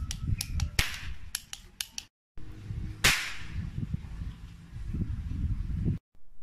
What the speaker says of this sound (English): Now I'm firing the cap gun and also the match gun.